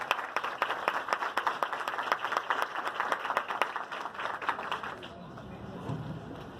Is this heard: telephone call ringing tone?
no